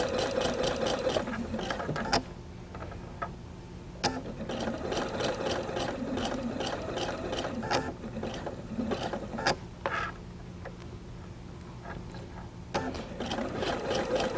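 A sewing machine with a pressure-sensitive foot stitches a quilt seam, its needle producing a rapid mechanical chatter in bursts with short pauses between runs, close and clear.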